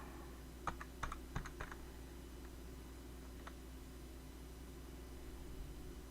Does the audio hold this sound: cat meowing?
no